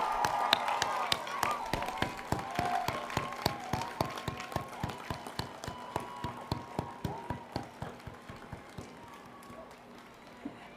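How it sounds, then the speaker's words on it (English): Graduates at a college degree ceremony give a round of applause, a dense burst of many hands clapping that gradually thins out into scattered individual claps as it fades, with some voices mixed in at the start. "show their appreciation with a round of applause for the faculty, friends, parents, guardians, and partners"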